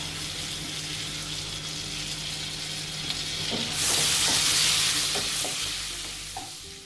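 Butter and oil heat in a pan with a continuous close hiss that swells louder partway through, while faint clicks and light knocks sound over the sizzle.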